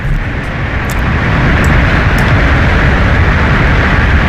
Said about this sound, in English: This plane is very loud